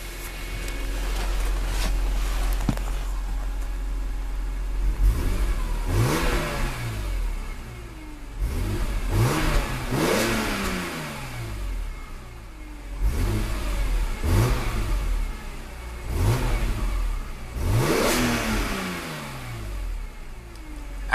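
A 2007 BMW Z4 M Roadster's inline six-cylinder M3 engine revs repeatedly from idle, each throttle blip rising sharply and falling back, about eight close, loud revs in sequence.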